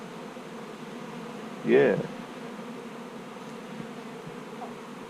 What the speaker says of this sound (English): just shake off these bees on the thing and take these packages back in the shed